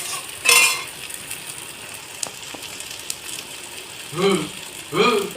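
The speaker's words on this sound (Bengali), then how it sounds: "আবারও আমি আলু আর ঢাকুনির সাথে একটু ভাজা ভাজা করে নিচ্ছি" Potatoes fry with freshly grated ginger in a pan for a fish curry, giving a faint steady sizzle with a few sharp utensil clicks and scrapes; a voice briefly sounds near the start and twice near the end.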